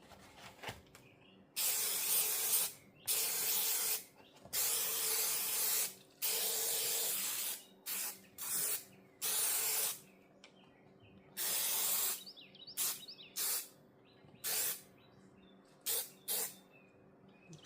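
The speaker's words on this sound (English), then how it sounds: "Now I'll spray the fabric." Spray adhesive hisses onto fabric for a Rolls Royce dashboard repair, with a run of loud, close bursts of one to two seconds each, separated by short pauses and a few quicker puffs, with no talking.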